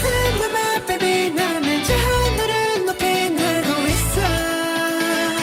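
K-pop track plays loud and clear, with bright vocals over bouncy synths and a punchy beat.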